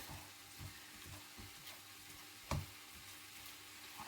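Pork mince fries in a pan with a quiet, steady sizzle, broken by one soft clunk of a spoon or pan partway through.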